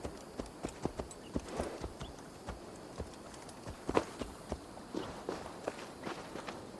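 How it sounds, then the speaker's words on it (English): Horse hooves clip-clop at a slow, plodding walk, each strike distinct and fairly faint against a quiet outdoor background, with no voices. "Patience is a tired horse. Ploddity plod plod."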